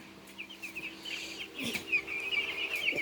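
Eight-day-old Nourish broiler chicks peep in a warm shed with a fan running, a chorus of thin, high repeated chirps over a steady low hum.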